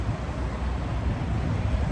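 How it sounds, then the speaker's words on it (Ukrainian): Strong wind rushes steadily past, a constant low rumble and buffeting roar with no pauses. "Є трошки вітер, такий сильний, але теплий"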